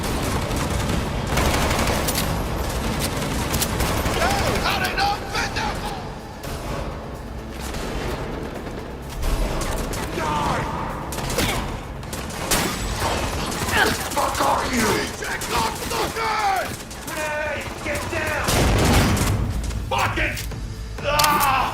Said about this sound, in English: This allows players to bounce bullets off walls and hit enemies hiding behind cover.